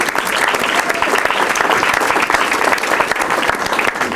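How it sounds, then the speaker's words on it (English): Sustained, dense audience applause at a live drum clinic tribute show, loud and continuous throughout with no talking over it. "I'd like to have a big hand for Dave and Eric."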